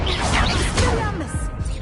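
The Expelliarmus spell is cast in Hogwarts Legacy, a loud swishing magical burst with sweeping, shimmering tones and a crashing impact, continuous for about two seconds.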